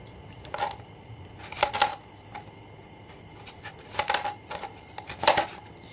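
A knife chops an onion on a board in uneven clusters of crisp, close taps with short pauses between the bursts.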